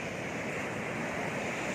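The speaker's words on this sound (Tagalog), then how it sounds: "tignan natin yung alon. Yung malalaki pa kasi kailan lang na tumigil yung ulan" Large ocean waves, still swollen after rain, roar as a steady, dense wash of surf with wind, loud and continuous, no voices.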